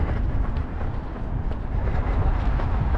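A Shenzhen metro train rumbles past a station in the high-tech district, a steady, loud low roar with faint rail clatter that fills the whole moment.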